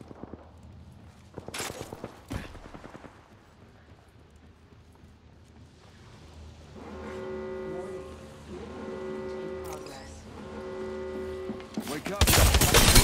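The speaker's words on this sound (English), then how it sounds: "I'm taking fire." Gunfire in the battle royale game Apex Legends, with sharp single shots early and rapid bursts of automatic fire later, ending in a loud close volley, alongside tonal game effects and a talking voice.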